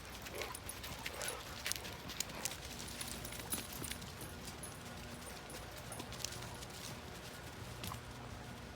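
Horse hooves clip-clopping at a walk on an outdoor path after rain, steady irregular footfalls at moderate distance, with dogs nearby and faint outdoor background noise.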